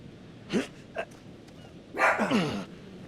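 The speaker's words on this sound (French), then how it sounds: "mon chien commence à aboyer" A dog in a horror game setting gives a few short, sharp barks, then a longer, louder burst of barking, heard fairly close against a quiet background.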